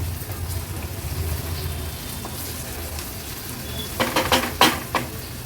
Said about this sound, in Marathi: पेस्ट पण अशी तेलावर छान आपल्याला परतून घ्यायची आहे